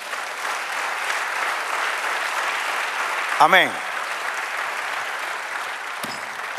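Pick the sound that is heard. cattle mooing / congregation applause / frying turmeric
congregation applause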